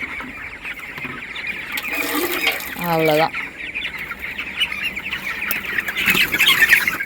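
Hens at the SBD poultry farm in Kooni Mudakku squawk and cluck close by in a busy, continuous flock chorus, with one sharp loud squawk, while someone speaks over the birds.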